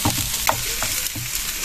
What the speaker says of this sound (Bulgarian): Добавяме и звука от пържене, който току-що записахме.